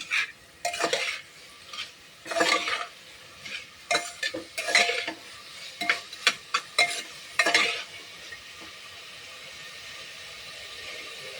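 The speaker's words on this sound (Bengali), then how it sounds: "ভালো করে নাড়াবো।" Onion, ginger and garlic paste fries in a pressure cooker and is stirred with a metal utensil: repeated close scraping and clattering strokes for about eight seconds, then a quieter steady sizzle.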